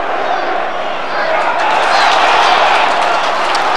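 Charlton football crowd roaring after a goal, a broad sustained cheer from a distant stadium end that swells midway, under a commentator's voice.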